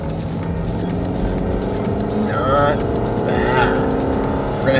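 A 2019 Toyota Camry drives through a corner while shifted with paddle shifters, its engine hum rising and falling under people talking inside the cabin.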